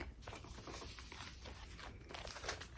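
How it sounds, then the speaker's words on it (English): Continuous close crinkling and rustling of a plastic bag, noisy and steady throughout, with no voices. "So that's just a plastic bag."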